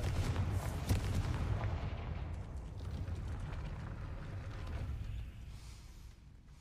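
A fiery Confringo blasting spell explodes in the Hogwarts Legacy video game, giving a loud, deep, rolling boom with a broad crackling rumble that holds for about five seconds before fading away.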